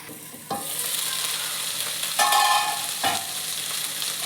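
Drumstick (moringa) leaves fry in a pan with a steady, fairly loud sizzle, punctuated by a few sharp stirring scrapes and clatters, without any talking.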